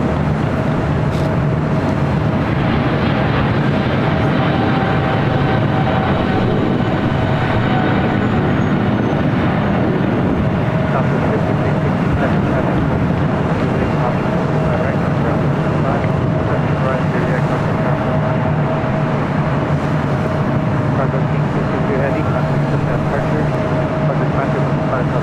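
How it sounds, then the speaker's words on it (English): A United Boeing 737 at LAX gives a loud, steady broadband roar of jet engines that holds level throughout, close by, with a faint voice beneath it. "It's United 737 in the Star Alliance livery."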